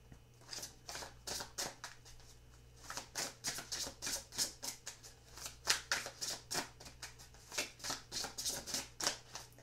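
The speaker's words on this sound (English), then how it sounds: "Let me get another card on this." Tarot cards shuffled by hand in a run of crisp, rapid riffles and flicks, close and fairly quiet, with rhythmic bursts continuing throughout and no talking.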